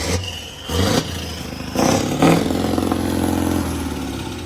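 Scania truck diesel engine fitted with an upgraded turbo and injectors, revving in several surges with a steady throaty roar between them, loud and close.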